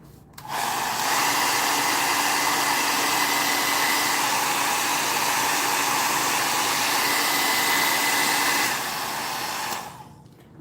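A hair dryer dries paint on a stencilled floral craft box, running as a loud, steady whirring blow for about eight seconds, with no talking, before switching off.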